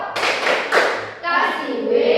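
A classroom of children does a rhythmic 'tepuk wow' clapping chant, sharp hand claps landing between loud group chanting voices in a short, lively burst.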